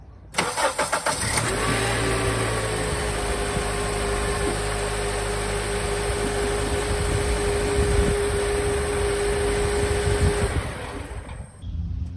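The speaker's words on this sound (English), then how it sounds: "All right, I'll start it up again." A Honda Element engine cranks and catches, then settles into a steady, loud idle close by for several seconds before cutting off, with no voices.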